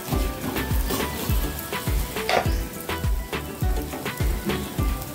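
Nachni (finger millet) thalipeeth sizzles on a pan over a medium flame as its second side roasts, a steady crackling fry with rhythmic soft thumps, close and fairly loud, with no speech.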